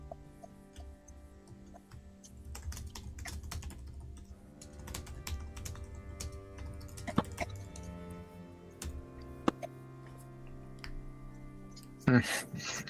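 Keys tap on a computer keyboard in uneven quick runs, close and soft, with a low hum underneath and a louder knock near the end, at a tabletop role-playing game table.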